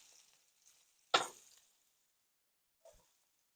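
Potatoes hitting a hot skillet with sautéed beef, one sudden sizzling hiss that fades over about half a second, then a faint brief second contact, close and fairly quiet.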